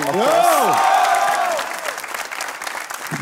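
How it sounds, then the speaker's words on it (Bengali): An audience claps loudly and continuously at a show, with a dense patter of hands and some crowd noise. A voice rises over the start of it, then the applause carries on a little softer. "গাইস তোমার যদি মনে হয় যে তুমি শিহাব শাহিনেরও ফ্যান তাহলে জোরে একটা তালি দাও"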